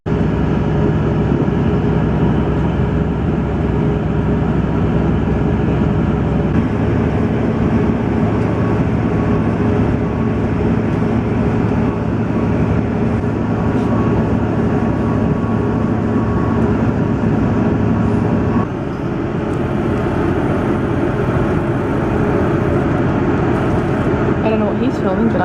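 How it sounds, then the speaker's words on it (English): Steady rumble and rattle inside a moving steam train carriage, continuous and fairly loud throughout, with voices talking over it. "It's a steam train."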